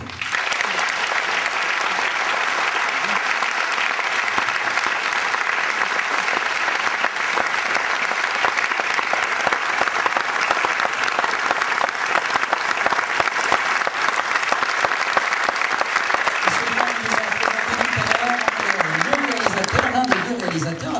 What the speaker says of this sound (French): des applaudissements mérités pour ce film